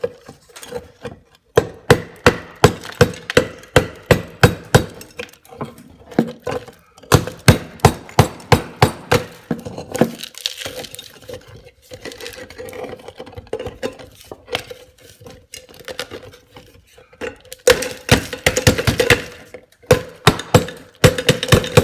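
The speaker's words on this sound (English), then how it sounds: "beating on this thing with a hammer" A hammer strikes an Aprilaire 800 humidifier with a calcified water sensor, sharp metallic-wooden knocks landing in fast regular bursts separated by brief pauses, close and loud with no voices.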